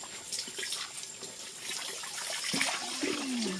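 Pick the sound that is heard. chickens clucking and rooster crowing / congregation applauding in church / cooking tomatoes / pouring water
pouring water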